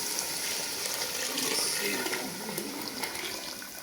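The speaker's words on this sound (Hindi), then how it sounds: "बेसन और दही मिक्स करके मैंने रखा था, वो भी अब डालूंगी" Gram flour and yogurt mixture pours steadily into a cooking pot for kadhi pakora, making a continuous close, even liquid rush with no breaks.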